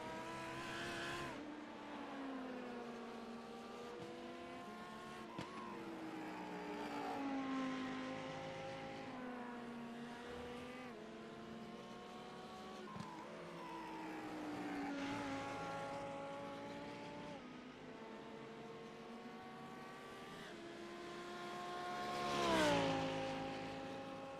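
LMP2 prototypes and GT3 cars racing on a circuit in a sports car series, engines rising and falling as cars pass at a distance, one louder pass near the end, no voices.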